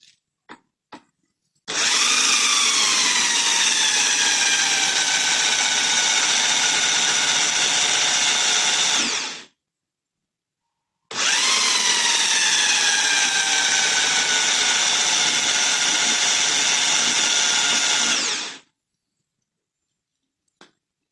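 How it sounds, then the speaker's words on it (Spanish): A small electric drill spins a car alternator to simulate engine rotation, giving two long whining runs of about eight seconds each. The pitch rises as each run starts and the tone stays steady and loud, with a pause between runs. "darle el giro con este taladro, simulando el giro del motor"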